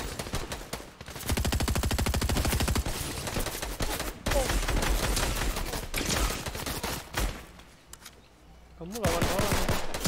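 Rapid automatic gunfire bursts from the Fortnite video game, loud and dense, broken by short pauses, with voices talking over parts of the action.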